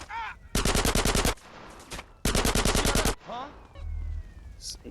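Bursts of automatic gunfire from GTA San Andreas Definitive Edition, two long rapid volleys of loud, evenly spaced shots with short pauses and a low game rumble between them.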